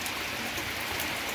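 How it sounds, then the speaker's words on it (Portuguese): Heavy rain falls in Joaquim Gomes, Alagoas, a dense, even hiss of drops with no voices. "olha aí, muita chuva"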